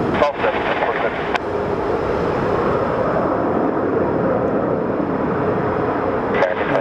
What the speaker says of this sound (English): that Southwest plane is super loud